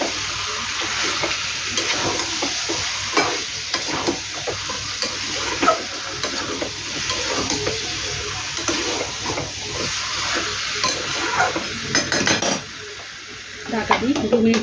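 Potato and eggplant curry with fish head frying in a pan, stirred with a utensil that scrapes and clinks against the metal over a steady sizzle, with a brief quieter pause near the end.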